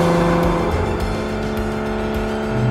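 A Porsche Cayman 987 engine sounds loud and close as the driver shifts gears, its steady drone broken by small pulses and changes in pitch through the run.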